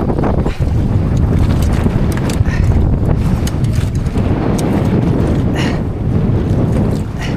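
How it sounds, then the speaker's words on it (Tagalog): Strong wind roars steadily across the microphone over churning sea water from a small boat, a constant loud buffeting with no letup. "Timing laot namin ni Oliver, mahangin lagi."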